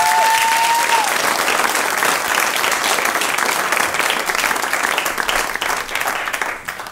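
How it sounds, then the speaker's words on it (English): Conference audience applauds as Paul Campbell takes the stage, a full burst of clapping that stays strong and then thins out into scattered claps. "Please give Paul Campbell a warm applause."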